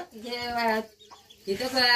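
Chickens in a small village coop cluck and squawk in two loud, drawn-out bursts close by, separated by a short pause.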